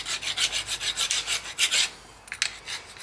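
Hand file rasping across car brake parts during a 2015 Toyota Corolla S rear brake job, about a dozen quick, rhythmic scraping strokes up close, then a pause and two more strokes.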